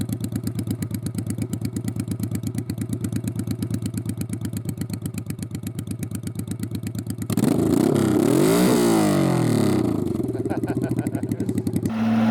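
Honda Shadow motorcycle engine on a ride, a steady close, loud pulsing idle-like thrum that swells into a rising rev around the middle before settling back, with no talk.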